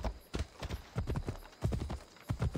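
Horse hooves clip-clop in the video game Assassin's Creed Odyssey, with a quick, rhythmic patter of hoofbeats at moderate volume that carries on throughout with no talk over it.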